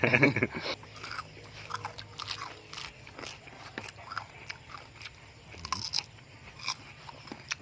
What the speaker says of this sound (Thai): มนุษย์สองตัวนี่กินหมูกรอบกันอยู่ข้างล่าง นี่เองกัดอะไรเสียงดังขนาดนี้